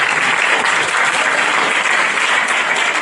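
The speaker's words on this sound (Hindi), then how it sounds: "जोर से ताली जाएगा" A church congregation at a Christmas convention breaks into loud, dense applause that runs steadily through the whole short stretch without any talk.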